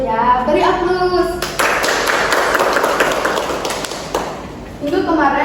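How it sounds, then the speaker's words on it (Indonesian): Classroom applause breaks out as a class claps together for a few seconds, a dense burst of hand claps that rises suddenly and stops, with a teacher's voice speaking before and after. "Beri aplaus."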